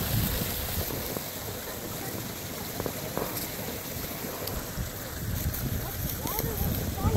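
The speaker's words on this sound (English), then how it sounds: "we found this cool waterfall while we were out looking for nature" A waterfall flows outdoors in nature as a steady, broadband rushing wash, continuous and moderately loud throughout, with occasional faint scattered sounds on top.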